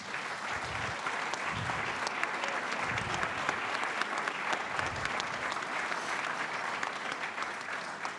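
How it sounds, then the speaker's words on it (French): Sustained, dense applause from a conference hall audience at the end of a talk on European responses to a multipolar world, a steady wash of many hands filling the room with no voices over it. "tous les applaudissements de la salle à l'issue de votre intervention"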